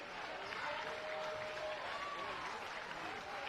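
Home crowd at a high school basketball game between Unity Christian and Boyden-Hull applauding at the final buzzer, a steady wash of clapping and cheering, moderately distant and continuous, with a commentator talking over it.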